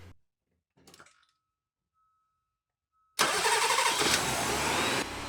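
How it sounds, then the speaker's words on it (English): A car engine cranks over on a lead acid starter battery, with a brief whir and a faint tone before the engine catches at about three seconds and roars into a loud, steady idle. "the lead acid battery starts the car no problem as expected"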